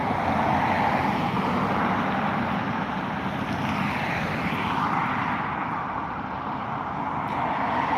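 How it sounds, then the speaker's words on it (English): A Finnair Airbus A319 pushes back at Dublin Airport, its engines giving a steady broad whine and roar at moderate distance that holds without break for the whole stretch. "there is a Finnair pushing back the A319"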